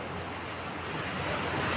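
Strong ocean waves surge and wash continuously during a thunderstorm, a dense, steady roar mixed with wind noise and no distinct breaks.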